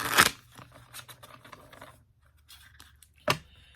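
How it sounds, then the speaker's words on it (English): Tarot cards riffle and snap in short bursts, with scraping and flicking sounds separated by quiet gaps, close and fairly soft. "I'm just going to shuffle a couple times here"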